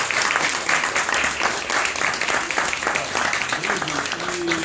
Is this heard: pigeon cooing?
no